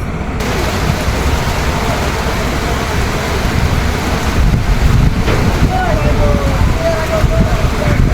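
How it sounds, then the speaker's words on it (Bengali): Heavy rain pours in a loud, dense, unbroken roar at a cattle market in Rajshahi, Bangladesh. A voice can be heard faintly underneath near the end. "অনেক জোরে বৃষ্টি হচ্ছে"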